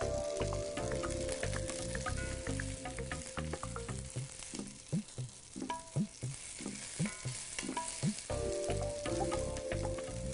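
Onions browning in a pan for a Greek rabbit dish, with a steady loud sizzle of frying and a run of spoon or spatula scrapes and knocks in the middle, with no talking.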